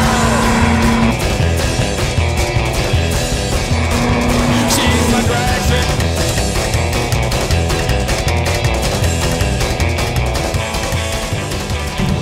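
A 2014 Shelby GT500 Mustang being driven, its engine roaring loudly and continuously with shifting tone and brief tire noise, close and dominant throughout with no talk.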